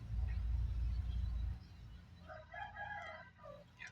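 A rooster crows a few times at middle distance after a low rumbling start, the calls rising over faint background noise while someone talks nearby.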